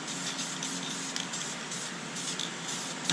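Spray paint misted from an aerosol can onto interior plastic and vinyl car parts, a steady close hiss with slight pulses as the light coat is sprayed.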